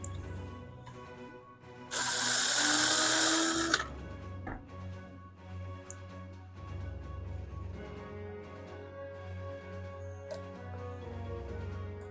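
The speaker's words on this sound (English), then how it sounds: "We'll drill it. A little starter drill." A power drill bores a small starter hole for tiny screws during a bus camper conversion, a short loud burst lasting about two seconds, then a quiet background hum with small clicks.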